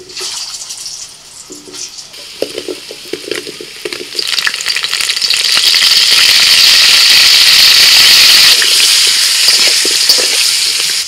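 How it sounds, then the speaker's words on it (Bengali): Potatoes frying with salt and turmeric in a big wok, starting with scraping and stirring clatter, then swelling into a loud, steady sizzle of hot oil that holds through the rest. "প্রথমেই হচ্ছে নুন হলুদ দিয়ে আলুগুলোকে একটু ভেজে নেব।"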